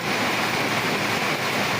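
A downpour falls hard in stormy weather at the Daulatram ashram in Ranuja, a close, thick, steady roar of water with no distinct thunderclap standing out.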